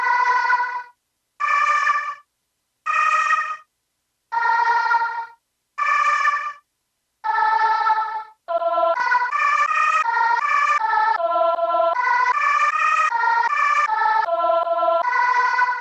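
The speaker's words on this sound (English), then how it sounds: "let's control the playback speed with the pitch" Sample played back through a 2hp Play Eurorack module with playback speed tied to pitch: a siren-like harmonic tone pulses in six separate bursts, then runs continuously with rapidly shifting pitch steps, loud and alone.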